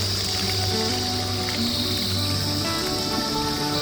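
Water flowing from a mountain spring beside a trekking path in the Himalayas, a steady, close rushing hiss with no pauses.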